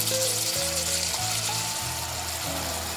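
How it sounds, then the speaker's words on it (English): A sloppy joe mixture simmers in a pan with a soft, steady bubbling sizzle. Faint background music plays underneath. "Bring to a boil, reduce the heat, and let it simmer uncovered for 4 minutes."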